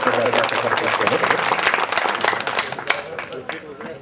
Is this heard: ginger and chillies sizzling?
no